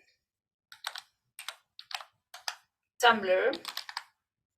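Typing on a computer keyboard, several short bursts of key clicks with a brief louder stretch of a voice speaking in between, close and moderately loud.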